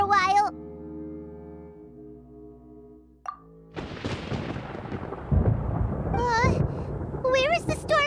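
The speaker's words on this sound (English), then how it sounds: "Paimon hears thunder!" Thunder rumbles in the Genshin Impact game, a broad low roar that swells in loudly and keeps rolling for several seconds, after a brief musical passage and under a high voice speaking.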